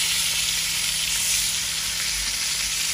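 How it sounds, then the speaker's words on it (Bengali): Oil sizzles steadily as pangas fish fries in a pan, a constant bright crackling hiss close up, with no talking. "সুন্দর ভাজা হয়েছে"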